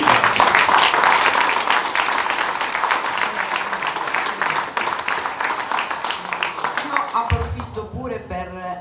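Applause for a performer at a song presentation event in Lamezia Terme: a dense, sustained wash of many hands clapping, loud and steady, then thinning and changing character near the end.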